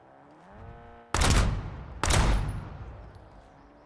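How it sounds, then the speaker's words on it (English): Hand cannon firing in Warzone, two heavy, booming shots about a second apart, each with a long ringing decay, after a quiet lead-in with faint tonal game sound. "Hand cannon, prepping fire."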